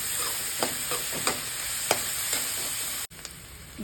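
Onions for soya kheema curry fry in a pan with a continuous bright sizzle, broken by several distinct scraping stirs of a spoon and a brief drop-out near the end.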